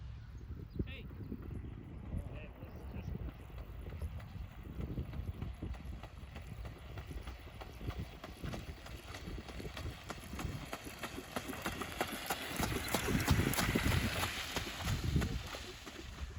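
Horses walk on a farm in Louiseville, their hooves clip-clopping in a loose, uneven rhythm at moderate distance, with gusty wind buffeting the microphone throughout.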